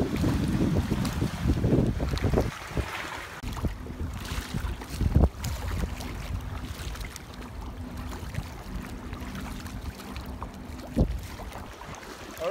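Paddling an ITIWIT two-person inflatable kayak on open water, irregular paddle splashes and sloshing mixed with heavy wind buffeting the microphone, no talking.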